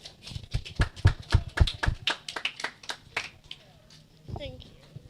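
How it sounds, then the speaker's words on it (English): Clapping from a small audience at a community Wi-Fi launch welcomes a singer, a quick burst of claps that thins out and fades, with a voice briefly heard near the end. "Give her a round of applause."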